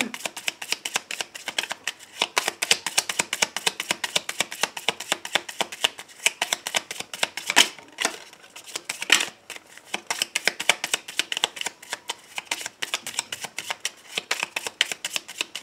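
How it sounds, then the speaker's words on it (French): Tarot cards are shuffled by hand, close and crisp, a rapid run of papery riffling flicks that continues steadily, with occasional louder slaps. "Alors, la coupe pour vous, amis Balance"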